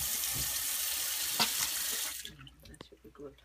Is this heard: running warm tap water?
yes